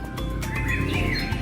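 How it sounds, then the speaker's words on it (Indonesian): Small birds chirp and tweet steadily at a museum in Kudus, a busy layer of calls sitting over a constant low background hum. "Banyak suara burung berkicau ini."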